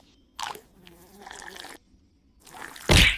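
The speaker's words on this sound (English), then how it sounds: "It's a mosquito." A cartoon mosquito buzzes in short whining bursts at a summer picnic, thin and insect-like, interrupted by clattering effects and ending in a loud burst of noise.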